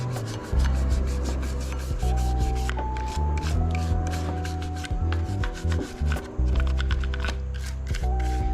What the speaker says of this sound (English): Go ahead and just start scrubbing